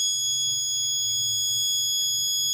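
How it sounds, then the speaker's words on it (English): An alcohol detection engine cut-off system sounds its alarm, a continuous high-pitched electronic tone with several steady harmonics holding unbroken and loud throughout, over faint low background hum. "If alcohol is detected, green LED off, engine off, orange LED on,"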